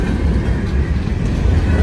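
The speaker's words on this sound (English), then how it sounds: "I got a loaded rail train going around that." A loaded rail train rolls around a tight curve in snowy weather, producing a loud, continuous, rumbling roar from nearby with a heavy low-end drone and no distinct clicks.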